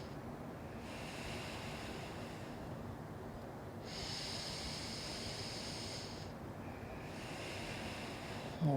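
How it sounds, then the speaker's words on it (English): Deep breathing during a slow kids' yoga flow: long, airy whooshes of inhale and exhale alternate steadily, close to the microphone and fairly loud, with no talking. "and 3 deep breaths."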